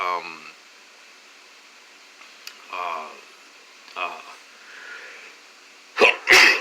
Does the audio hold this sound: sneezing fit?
yes